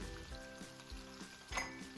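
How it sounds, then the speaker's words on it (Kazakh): Thin strips of tender beef frying in oil, a close, steady sizzle with faint stirring scrapes and no voices. "Әуелі сиырдың жұмсақ етін соломка етіп турап, майға қуырамыз."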